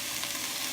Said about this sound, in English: everything is sizzling real nice